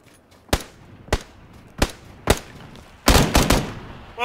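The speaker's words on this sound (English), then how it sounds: "Whoa, I'm shooting your tire, bro." Gunshots fired at a car tire in a video game ring out as sharp, separate cracks, four spaced single shots followed by a quick cluster of two or three, fairly close and clear with no talking.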